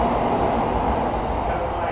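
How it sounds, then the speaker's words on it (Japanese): A Tokaido Shinkansen Kodama train pulls out of a station, making a steady, loud rolling rumble with broad rushing noise that stays even for the whole moment. "ということで児玉号出ていきました。"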